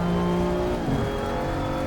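BMW M2 CS race car in the racing game Assetto Corsa Competizione, its engine note holding steady and fairly loud, then dipping briefly around a gear change or lift before settling back into a sustained drone.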